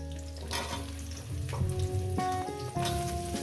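Taro and potato pieces sizzle steadily in hot oil, with occasional clinks and scrapes of stirring over the continuous frying hiss.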